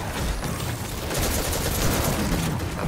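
Grenade thrown and exploding in the sci-fi shooter Destiny 2, heard as a loud, dense burst of blasts and rattling impacts that swells partway through and keeps rumbling nearby.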